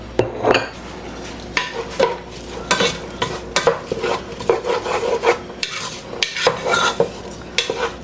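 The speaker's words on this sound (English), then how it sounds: "we put butter in there and onion, and I just scraped the bottom" Repeated rasping scrapes of a utensil across a pan bottom holding butter and chopped yellow onion, with a little stuck garlic being loosened, in close, loud, irregular strokes with a faint sizzle beneath.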